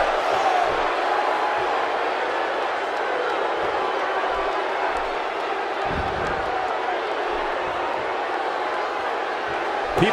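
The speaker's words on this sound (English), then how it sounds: "by the sound of this crowd, I think they're getting what they wanted" Loud arena crowd roaring and cheering without pause at a WWE Survivor Series elimination wrestling match, a dense wash of voices with scattered shouts, steady and close throughout.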